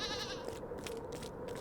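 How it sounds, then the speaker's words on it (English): Baby goat bleating in the video game The Count Lucanor, a wavering high bleat at the start followed by softer cries over faint background game ambience, no talking. "There's a goat trapped by these crates."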